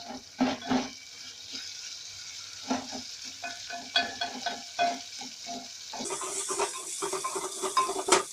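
Beef frying in a pan as a pizza topping, a faint sizzle with repeated clinks and scrapes of stirring spread across the clip, growing a little louder toward the end.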